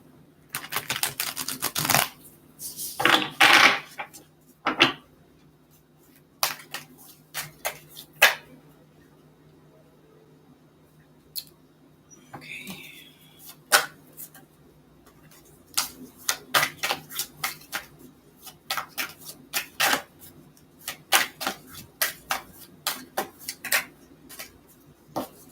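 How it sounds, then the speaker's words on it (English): Tarot cards being shuffled by hand, bursts of crisp riffling and scattered taps and clicks close up, separated by quiet pauses, with no talk. "So just one more shuffle here."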